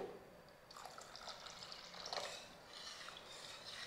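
Water is poured into mashed chana dal in a pot, a soft, quiet splashing and trickling that runs continuously with a few brighter bursts.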